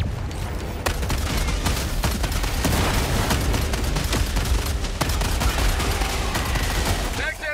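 An automated sentry gun in the video game Helldivers 2 fires a sustained, rapid stream of loud gunshots with dense battle noise throughout, continuous and close.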